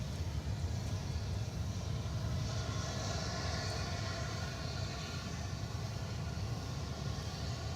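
A McDonnell Douglas MD-11 cargo plane taking off at Dallas Fort Worth Airport in the early morning, a faint, distant, even engine roar with low rumble that stays steady throughout, no speech.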